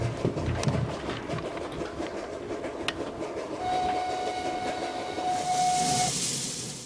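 A steam logging train in Romania chuffs and rumbles steadily, with hissing steam and a long, sharp whistle blast partway through.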